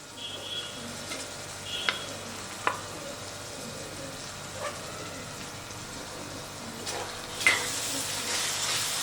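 Spice paste and coriander stems sizzling in a pan for restaurant-style paneer bhuna masala, a steady broadband fry with a few sharp clinks and stirring scrapes, louder hissing burst near the end, no talking.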